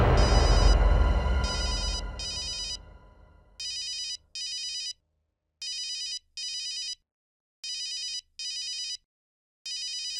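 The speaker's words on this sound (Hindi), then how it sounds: "डॉक्टर नियति का फोन है, क्या करूं?" A phone rings with an incoming call from Doctor Niyati, its electronic ringtone repeating in regular double bursts separated by pauses, loud and close, after a louder mixed sound fades out.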